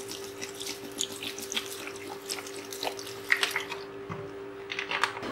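Water poured from a tap into a kitchen grinder jar for beetroot juice with lemon, a steady quiet trickle and splash with a few small drips near the end, no voices.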